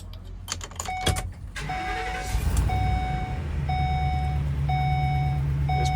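A 2016 Ford E350 Super Duty 16-foot box truck with a ramp and nearly 200,000 miles cranks briefly and catches into a steady low idle, while a dash warning chime beeps at an even, repeating pace.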